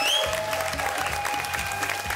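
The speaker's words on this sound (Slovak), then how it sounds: "Potlesk pre vás" A television studio audience claps in continuous, dense applause, close and steady throughout, under a sustained musical tone.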